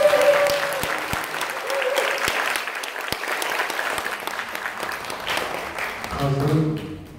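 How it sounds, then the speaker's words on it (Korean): An audience breaks into warm applause for the association president at a composer's greeting event, a sustained wash of clapping hands filling the room at moderate loudness, with a voice speaking over it near the end. "우리 회장님께 박수 한번 주세요"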